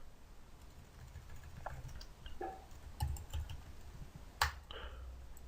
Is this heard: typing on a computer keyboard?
yes